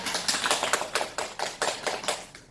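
A few people clapping in a room, about a dozen quick sharp claps in an uneven rhythm, close and clear with no talk.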